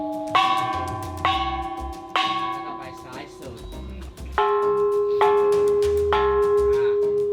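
A resonant bell struck repeatedly at a steady pace, about eight strikes, each tone ringing on into the next, with a voice speaking over it.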